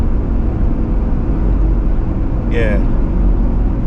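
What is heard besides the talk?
ambulance being driven on the road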